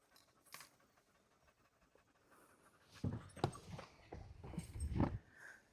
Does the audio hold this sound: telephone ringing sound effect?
no